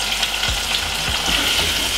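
Fresh garlic fries in a hot frying pan for a Jamaican breakfast fry-up, a loud continuous sizzle with a few scraping stirs, close and without talking.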